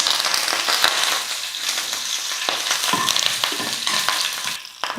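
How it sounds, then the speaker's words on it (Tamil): Mustard seeds, cumin and curry leaves sizzle and pop in hot oil for a banana-stem-free raw plantain fry tempering, a dense continuous crackle with sharp seed pops throughout, loud and close, with no talk. "கடுகு நல்லா பொரிஞ்சிடுச்சு கருவேப்பிலை கொஞ்சம் சேர்த்துக்கிறேன்"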